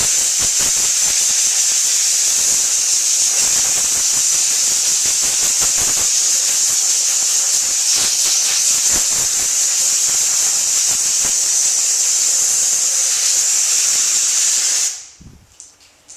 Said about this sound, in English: I'm just going to blow it with clean, compressed, filtered air.